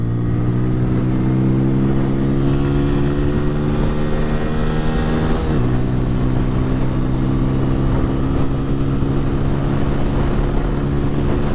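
A 2020 TVS Apache RTR 200 4V motorcycle is ridden steadily, its engine humming loud and close with rising pitch, one quick shift midway, and wind noise over the ride.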